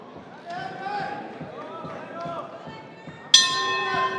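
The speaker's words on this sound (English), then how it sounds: "Bell rings, we're underway." A boxing bell rings once, sharp and ringing, to start a six-round featherweight bout at an LA Fight Club event, cutting in after a commentator's voice over a quiet arena hum.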